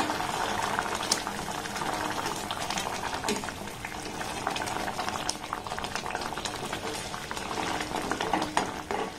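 Sugar syrup for palm jalebi sweets boiling steadily in a pan on low to medium gas, a dense continuous bubbling and fizzing close by with no talking.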